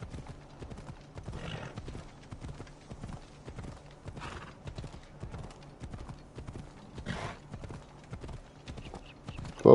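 Phobos, a horse in the video game Assassin's Creed Odyssey, trots with steady hoof clip-clop while giving a few soft snorts and breathy whinnies at moderate distance, no talking.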